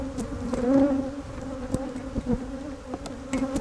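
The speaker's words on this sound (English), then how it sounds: "They're not too concerned about our presence here and how aggressively we're managing their beehive today." Honeybees buzzing around an open beehive being worked by beekeepers, a steady close droning hum with a few brief clicks and bumps, no talk.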